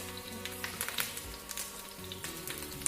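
Dried red chillies, shallots and curry leaves frying in a tablespoon of hot coconut oil in a pan, a steady close crackling sizzle with scattered sharp pops, heard alone without talk.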